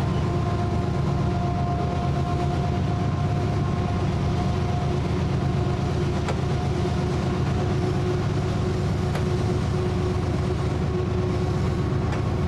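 A freight train cab rumbles continuously and loudly with a steady engine drone, low-pitched roar and faint occasional rail clicks.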